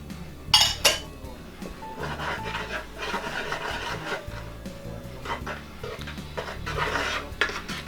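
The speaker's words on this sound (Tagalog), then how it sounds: "Tapos hahaluin lang natin ng konti." Puto cheese batter stirred in a bowl gives scraping and knocking sounds with a couple of sharp clinks at the start, then continuous rubbing and tapping at moderate volume.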